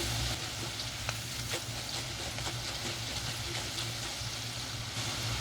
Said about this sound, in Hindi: स्पून की मदद से हम इसको इस तरीके से हिलाएंगे। इसको फ्राई होने में 3 से 4 मिनट लगेंगे।